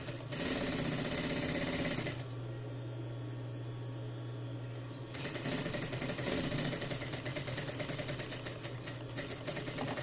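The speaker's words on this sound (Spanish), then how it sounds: "Iniciamos, ya saben, rematando al principio y al final de cada costura." A sewing machine stitches a seam in fabric, a steady buzzing run that stops briefly partway through and then resumes, close and clear with no talking.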